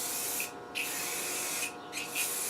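Light first coat of spray paint going onto a Ford F-150 fuel tank: two steady hissing bursts from the spray gun, close and fairly loud, separated by brief pauses, with no talking.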